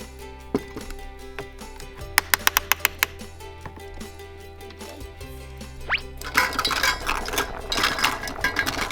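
Spoon stirring boiled corn in a metal pot on a stove, bright clinking taps in a quick cluster, then scraping and bubbling hiss as stirring continues nearby.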